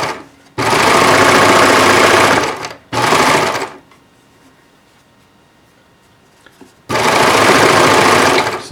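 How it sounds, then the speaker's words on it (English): An industrial sewing machine runs a straight stitch over a stretchy knit seam in three loud, close bursts of rapid mechanical hum, separated by a longer quiet gap. "I'll just use the other machine, put a straight stitch over it to lock it down."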